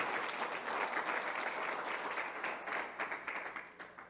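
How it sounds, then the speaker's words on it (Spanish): A church congregation breaks into sustained applause, a dense wash of many hands clapping that swells and then gradually thins out toward the end. "¿Le puede dar un aplauso al Señor si está aquí conmigo?"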